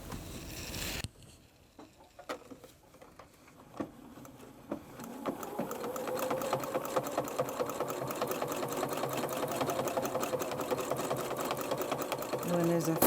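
A sewing machine free-motion quilting a scrappy cat quilt: a few sparse clicks and taps, then a steady fast mechanical stitching whir that runs continuously, moderately loud and close.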